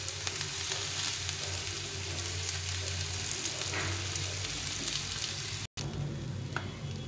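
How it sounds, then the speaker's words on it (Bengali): Gobindobhog rice frying with ground black pepper and spices in a pan for vegetable pulao, a steady close sizzle throughout with a brief cut near the end. "দিয়ে এখানে এই চালটা দিয়ে দেবো,"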